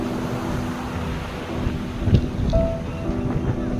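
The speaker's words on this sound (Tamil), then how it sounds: "கடல் அலைகள்" Sea waves washing onto Lemur Beach, a continuous broad roar of surf mixed with wind buffeting the microphone, with a slightly stronger crash midway.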